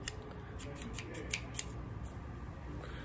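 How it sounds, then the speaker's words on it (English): Cigar cutter snipping a Perdomo Lot 23 cigar with a V-cut, a few faint quick clicks and one or two small snaps over a low steady background hum. "So let's go ahead and get this bad boy cut up"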